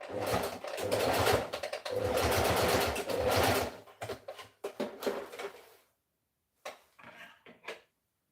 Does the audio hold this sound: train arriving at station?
no